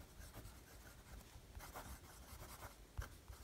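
Parker Jotter stainless steel fountain pen with a medium steel nib and a blue cartridge scratching across paper, soft close scraping strokes in a steady rhythm with a small tap near the end.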